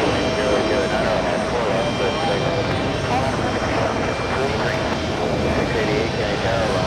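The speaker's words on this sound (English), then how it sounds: "We have a JetBlue speeding out of runway 4 left." A JetBlue jet roars down runway 4 left at JFK airport, a steady, loud, broadband engine rush that holds for the whole stretch, with muffled voice chatter underneath.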